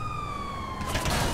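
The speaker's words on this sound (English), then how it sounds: "There's a police car there." A police car siren in the video game GTA V on PS3 wails with a descending tone, heard briefly and fairly loud before a burst of broadband game noise cuts in.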